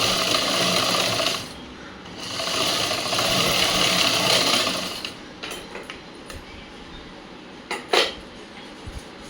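A sewing machine stitching the shoulder seams of a cut blouse runs in two sustained whirring bursts, then falls quiet apart from scattered clicks and handling noises.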